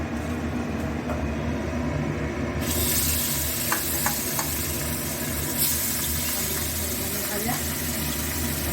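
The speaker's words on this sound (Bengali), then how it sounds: "বুঝতে পারছে মাছগুলো ভাজা হয়ে গেছে, আর কিছু বাকি আছে, ভেজে তুলে দেবো।" Pabda fish fry in hot oil for a jhal, giving a steady, close sizzling hiss that runs the whole time, with a few light clinks of a utensil against the pan.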